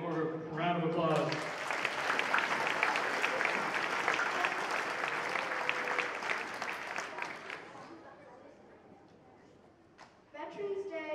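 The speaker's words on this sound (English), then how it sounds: "One more round of applause" Audience at a 2016 Veterans Day celebration breaks into a warm, sustained round of applause after a musical performance, lasting several seconds and tapering off, with a voice speaking briefly before and after.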